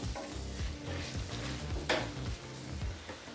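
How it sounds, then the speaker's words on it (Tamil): Mutton sautés with freshly ground masala in a pressure cooker for seerага samba biryani, a soft sizzle under repeated scraping and stirring strokes of a spoon against the metal pot, close and moderately quiet. "மட்டனை நல்லா வதக்கியாச்சு."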